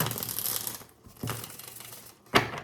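Tarot cards being shuffled in several quick riffling bursts separated by short pauses, close and crisp, with the last burst the sharpest.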